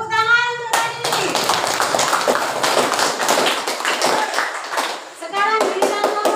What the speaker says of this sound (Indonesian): Tepuk tangan untuk Radi.